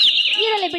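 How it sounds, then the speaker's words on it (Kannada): During a Kannada stage drama, a short, high, bird-like chirp sweeps downward in pitch. A voice speaks over the brief call. "ಹಕ್ಕಿಯ ಚಿಲಿಪಿಲಿಯ ನಾದಗಳು ಇವೆಲ್ಲ ಕೇಳಿ ನನ್ನ ಮೈ ಮನ"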